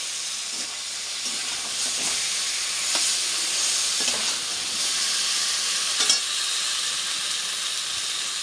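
Meat fried and stirred in oil in a kitchen pot gives a loud, continuous sizzle with occasional soft knocks from stirring.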